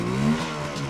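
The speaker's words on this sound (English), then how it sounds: "It starts really easily, engine's nice and quiet, and it picks up on all 3 cylinders straight away" A Suzuki GT750 three-cylinder motorcycle engine runs nearby, a steady, smooth burbling drone heard alone for about a second.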